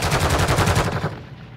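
Rapid bursts of automatic gunfire in the video game Call of Duty: Modern Warfare II, loud and continuous for about a second before trailing off into a fading echo.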